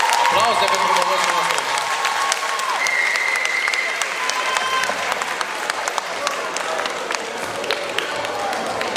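A crowd applauds at a school freshmen's ball in a hall, with dense, loud, sustained clapping, scattered cheers and a sustained tone above it, and speech mixed in.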